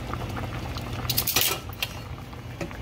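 A pot of creamy vegan soup boils on the stove, giving a steady bubbling and popping with a few louder bursts, close and clear with no talking.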